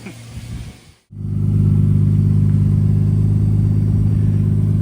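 A 1989-1994 Nissan Skyline engine settles into a steady, loud idle after a brief cutout, warming up following an oil change, its low hum close and constant.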